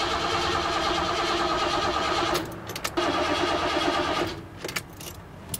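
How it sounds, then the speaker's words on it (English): An old van's engine cranks repeatedly without catching, a steady mechanical whirring that runs for a couple of seconds, pauses, then cranks again before cutting off. "So the van is cranking, but it's not turning over."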